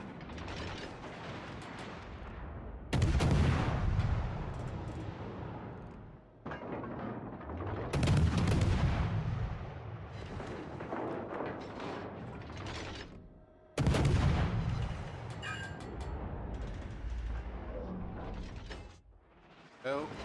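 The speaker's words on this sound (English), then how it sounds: "Might as well get some salvos in. Yeah, shooting AP." Naval guns fire armor-piercing salvos in a warship game, several heavy booming volleys a few seconds apart, each a sharp blast followed by a rumbling tail, with softer mechanical noise between.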